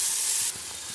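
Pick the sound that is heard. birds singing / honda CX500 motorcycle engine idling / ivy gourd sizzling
ivy gourd sizzling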